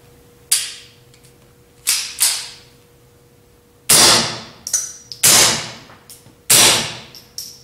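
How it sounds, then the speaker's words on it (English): Suppressed .22 Ruger pistol fitted with the original aluminum 22Sparrow suppressor and a Tactical Solutions pack light, six sharp muted cracks fired singly at irregular intervals, each fading quickly into a quiet, steady background hum. "This is the original aluminum 22Sparrow with a Ruger and Tactical Solutions pack light."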